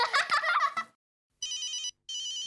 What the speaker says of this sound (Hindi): लगता है बॉस का फोन आ गया।